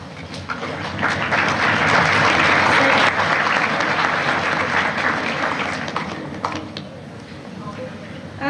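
At a 1992 Queen Elizabeth graduation ceremony, an audience breaks into a swell of hand clapping that builds, holds for several seconds and then tapers off in a large hall.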